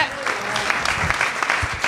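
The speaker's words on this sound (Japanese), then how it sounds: "拍手かなこれは" Steady applause from a group fills the room, a dense patter of clapping with voices murmuring underneath.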